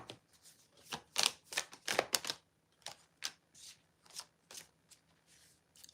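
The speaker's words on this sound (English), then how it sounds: "let's get some good shuffles in here" Tarot cards are shuffled close by in quick riffling bursts, some louder and some softer, with short gaps between them and no talking.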